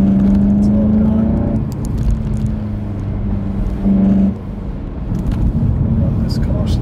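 A car descends a steep mountain road on a peak at about 4,000 feet, its engine humming steadily and easing off between corners, with a voice talking over it throughout.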